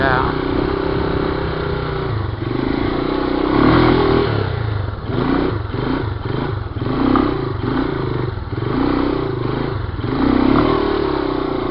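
A Yamaha 200E motorcycle engine revs in steady, loud surges, rising and falling repeatedly while the rider pulls a wheelie on snow, with wind and handling noise over a continuous drone.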